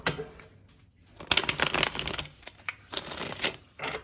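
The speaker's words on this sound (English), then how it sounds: "Okay, I'll do one final shuffle." A tarot card deck is shuffled by hand, giving bursts of rapid, close riffling and papery flutter broken by short pauses.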